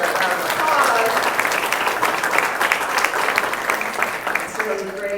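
Applause from an audience at a community meeting at a vacation center, a steady wash of many hands clapping that fills the room and tapers slightly near the end, with a voice faintly audible beneath it.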